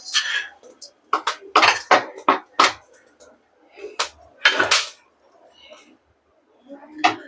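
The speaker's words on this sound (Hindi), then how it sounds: "कढ़ाई में ही 1 मिनट तक हम चलाते हुए, चलाने के बाद थाली में निकालेंगे" A metal spatula scrapes and clanks against a kadhai while roasting wheat, giving a series of sharp, irregular stirring knocks up close with brief pauses between strokes.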